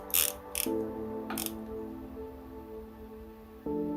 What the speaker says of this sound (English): So I'm going to use a torque wrench and confirm what torque that was